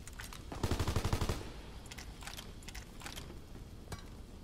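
MG 42 machine gun firing in Call of Duty WWII: one fast burst of rapid shots lasting under a second, then scattered mechanical clicks and distant pops in the game's battle ambience.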